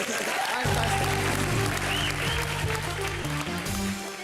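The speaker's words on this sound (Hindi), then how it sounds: "जोरदार तालियां" Applause from a comedy show studio audience rises and continues, mixed with a steady musical hum and loud crowd noise.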